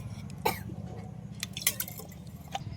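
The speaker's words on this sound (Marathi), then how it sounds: "तेल टाकून घेतो कढईतनी." Cooking oil is poured into a kadhai, a few soft drips and splashes at intervals over a low background hum.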